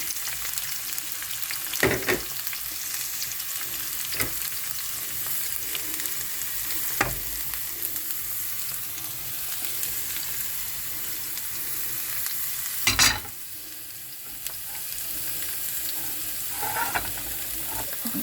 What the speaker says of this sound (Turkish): Şimdi yağ Kızardan soğanımı ekliyorum. Kuşatıyorum.